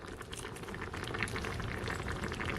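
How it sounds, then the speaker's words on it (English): Steady bubbling and popping of black bean soup at a rolling boil in a mini rice cooker, close by and fairly quiet, with no voices. "It's been 20 minutes and this soup is really boiling away"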